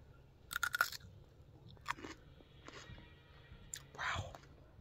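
Someone bites into a freshly harvested, washed garden cucumber, giving a few crisp crunches and chewing sounds spread over several seconds, close and quiet, with soft whispery breaths between bites.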